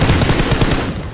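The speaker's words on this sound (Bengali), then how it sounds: "মেরে দে বন্দুক দিয়ে মেরে দে" Automatic gunfire in the battle royale game BGMI, set on the Erangel map, rattles out in a rapid, evenly spaced burst of sharp shots, loud and close, with no talking.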